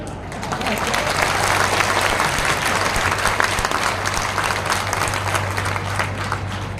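A crowd at a working journalists' union meeting in Morena applauds the chief minister, with sustained, dense clapping that swells in quickly and holds loud and even throughout, with faint voices mixed in beneath.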